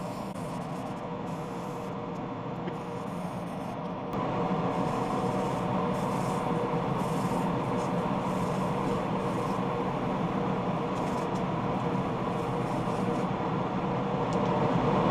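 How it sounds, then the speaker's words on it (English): Hand sanding wood with 180 grit sandpaper in a shop produces a steady, dense scratchy rasp that continues without pause, becoming louder partway through, with a fan humming in the background. "I'm going to sand this now, starting with 180."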